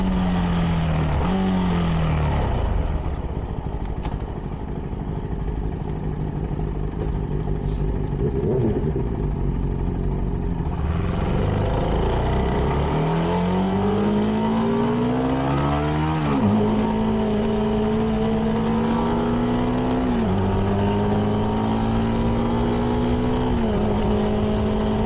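A CFMoto 300NK motorcycle with its stock exhaust is ridden under steady wind rush, its engine note rising repeatedly through the gears with short dips at each shift, close and continuous.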